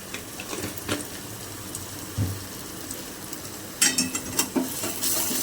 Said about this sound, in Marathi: किती छान पद्धतीने कांदा आणि टोमॅटो फ्राय झाला आहे किंवा भाजला गेला आहे